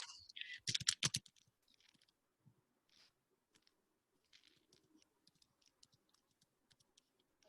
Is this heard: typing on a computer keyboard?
yes